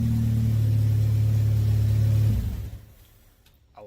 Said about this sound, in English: Thing just fires right up, ready to go racing.